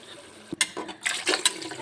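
Water pours in a few short splashing bursts into a pot of rice for vegetable pulao, close by, with brief gaps between pours and no talking.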